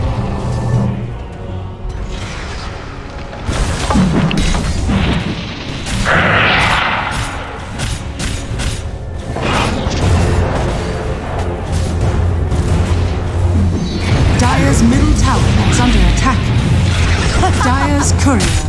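A Dota 2 tower under attack and falling during a match: dense, rumbling booms and impact bursts pile up over busy game effects, while an announcer voice speaks over the action.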